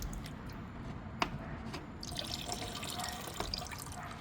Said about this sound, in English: This stuff is still leaking coolant.